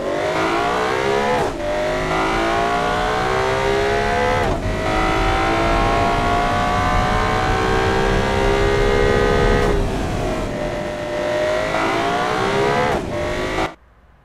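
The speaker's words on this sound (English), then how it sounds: "I want to hear it and see it go around the test track" Simulated car engine from the Automation game circling a test track, loud and continuous, revving up and down through gear changes with rising harmonic sweeps before cutting off abruptly near the end.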